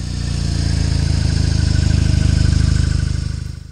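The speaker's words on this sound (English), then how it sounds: "This is a mini version of that, and it has that classic Boxer noise" A 2023 BMW R nineT Scrambler with its 1170 cc boxer twin runs steadily up close, a loud, even, throbbing engine pulse that holds for the whole stretch with no voices.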